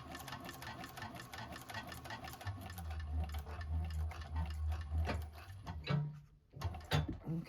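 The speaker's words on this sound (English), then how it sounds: "Don't forget to hold your threads and back stitch at the beginning and end." A 1341 cylinder arm sewing machine backstitches a bag seam, running close and steadily for a few seconds with a low motor hum, then stopping and starting again in short bursts.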